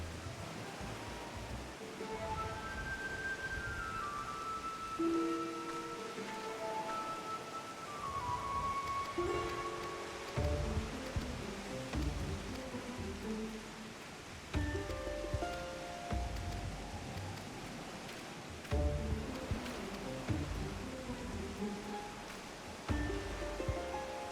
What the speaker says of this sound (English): Oh, it's raining really hard.